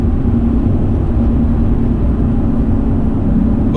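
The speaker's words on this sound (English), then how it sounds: "just highway driving like I am right now" A car cruises on a highway on Toyo RT tires, giving a steady, loud low road rumble and tire drone with a faint engine hum, constant throughout with no talking.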